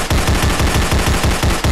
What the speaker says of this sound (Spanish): Voy a hacer un disparo preventivo.